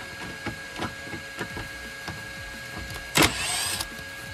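Lower bumper screws come out of a Citroen C1 with a run of light ratcheting clicks, followed by a short, louder whirring burst of a tool near the end.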